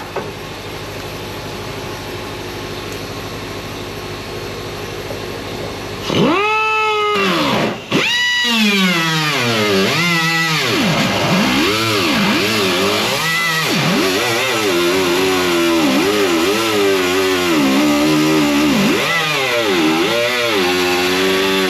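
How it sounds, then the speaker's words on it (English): An abrasive cutoff wheel slices through the steel body panels of a 1969 VW Bus during a right dog leg repair, with a loud, continuous whine after a quiet start. The pitch swoops and wavers repeatedly as the wheel loads and eases through the metal. "I'll start it with the cutoff wheel"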